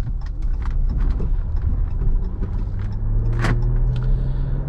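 A 2015 Jeep Cherokee Limited V6 drives along a gravel road, with a steady close engine rumble under a continuous crunch and patter of gravel against the tyres and underbody.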